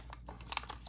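Paper being sink folded for an origami fish, giving a second of soft, close crinkles and small crisp crackles as the folds collapse inward.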